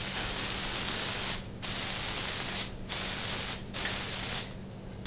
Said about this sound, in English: oil the smoking racks is to use an oil spray and to spray it inside the dishwasher like this